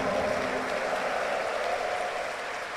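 A church congregation at Sunday Mass applauds. Sustained, even clapping from many people, heard at moderate distance and steady throughout.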